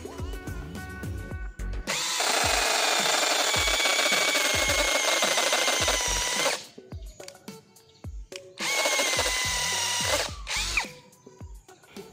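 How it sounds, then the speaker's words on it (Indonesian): Kenjiro 21V brushless cordless drill in impact mode at its highest speed boring into concrete, two long loud grinding hammering runs separated by clicks, knocks and handling noise, up close and without talk. "Di sini kita akan mengebor menggunakan mode impact dan percepatan yang high atau yang paling kencang"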